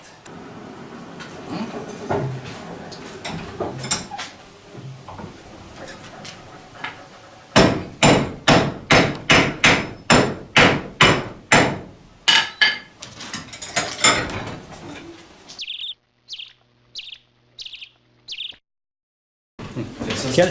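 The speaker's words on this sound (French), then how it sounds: "Dans la première chaleur, on forme le clou qu'on le coupe. Dans la deuxième, on fait la tête." A blacksmith at a historic Acadian village forges a nail from hot iron. After a stretch of quieter shop noise, a fast run of loud, ringing hammer blows on the anvil follows, ending in a few lighter, higher taps.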